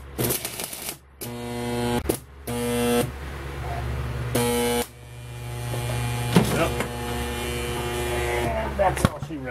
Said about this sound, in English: So the answer to the question is yes, it will weld, but not for very long.